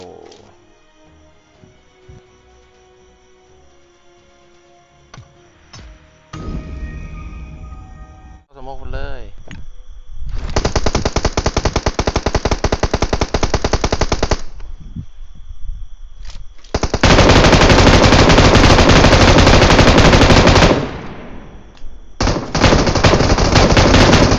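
Automatic gunfire from PUBG Mobile played on an iPad, with long sustained loud bursts of rapid shots separated by short gaps and quieter game noise between them.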